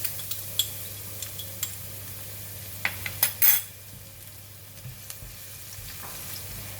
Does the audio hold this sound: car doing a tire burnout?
no